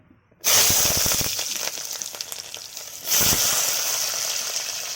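Small shallots drop into hot oil in a clay kadai, bursting into a loud sizzle after a brief silence, with crackling pops and a second surge of hissing midway, no voices.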